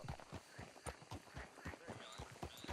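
Rhythmic clip-clop of horse hooves at a brisk trot in Red Dead Redemption 2, crisp and close, with faint background ambience.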